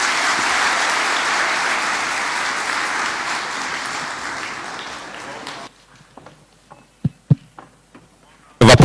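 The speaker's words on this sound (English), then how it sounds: "Applause for His Excellency." Audience applause follows a speech by His Excellency at the Katiba Day 2025 event at KICC, Nairobi: dense, loud clapping across a large hall for about six seconds, then dropping to a few scattered claps and quiet before another burst.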